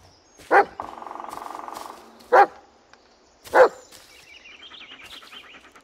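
A dog in the horror video game Blair Witch gives three sharp, separate barks spaced over several seconds, with a quieter droning tone and faint game ambience between them.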